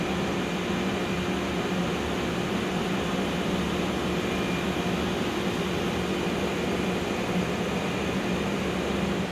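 A Thermwood Cut Center CNC router in a shop starts up with a steady, even machine hum and airy whir that stays level throughout, with no talking.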